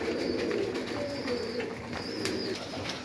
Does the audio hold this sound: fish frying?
no